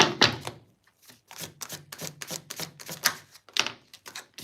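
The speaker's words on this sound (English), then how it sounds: "Elvin, I'm going to do your reading after I am finished shuffling this" Playing cards riffled and shuffled during a live tarot-style card reading, a quick run of crisp flicking bursts with brief pauses, close and fairly quiet, with no talking over it.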